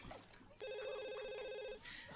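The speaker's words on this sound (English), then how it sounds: "phone." A telephone rings in The Sims 2, a faint electronic trill held for just over a second, set against quiet game background sounds.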